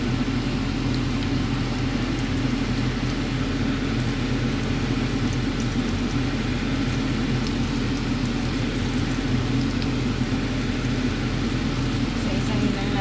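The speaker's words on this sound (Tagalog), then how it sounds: "umpisa na natin ang mag-prito" Shrimp fry in a pan over low heat, giving a continuous, even sizzle with a rain-like hiss that holds steady throughout.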